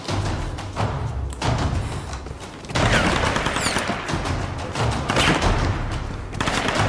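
Gunfire in the video game Tomb Raider: dense bursts of rapid shots and thumping impacts rattle on and off, loud and close, with short pauses between volleys.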